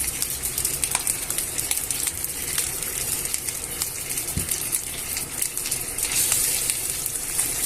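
Chicken and chorizo sizzle and fry in a pan while being stirred and turned over, a steady, dense hiss with scraping movement, loud and close with no talk.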